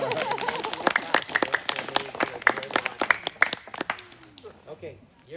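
A small audience gives a round of applause, with fairly sparse, distinct hand claps close by that thin out and fade, and a few voices murmur underneath.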